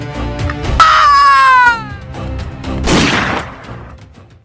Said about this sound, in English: Ein richtiger Regen von Geschossen stürzte auf die Hütte.